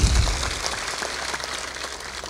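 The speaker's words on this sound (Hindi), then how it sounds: "बजा दिया करो ताली" An audience at a spiritual talk claps, giving a continuous crackling patter of many hands at moderate volume after a brief low thump at the start.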